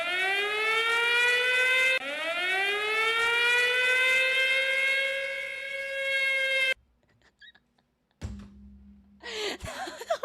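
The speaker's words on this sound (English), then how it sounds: "We need a siren. We need a siren sound." A loud wee-woo civil defense style siren sound effect wails in long rising and falling sweeps for about seven seconds, then cuts off abruptly, followed by brief quiet and a few scattered noises.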